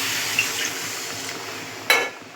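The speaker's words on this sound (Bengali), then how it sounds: "এটা দিয়ে দেবো আমরা অল্প জল দিয়ে, কারণ এটা হেভি করবো।" Water poured into a cooking pot for a vegetarian paneer and potato dish, a steady splashing stream lasting about two seconds, ending with a brief louder gush.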